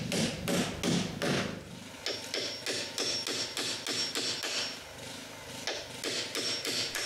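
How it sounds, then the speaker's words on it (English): Nails hammered into wooden planks for a cottage outhouse roof, a long run of sharp, evenly paced close blows, a few heavier thuds at the start followed by quicker regular strikes with occasional brief pauses. "Now I can nail the first plank in place."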